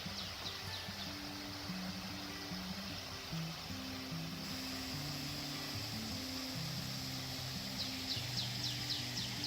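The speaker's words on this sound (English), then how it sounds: "it has this beautiful creek. I love the sound of that." A creek flows along a hiking trail at Radnor Lake near Nashville, giving a steady broadband rush of water with scattered bird calls and low tonal sounds layered in the background.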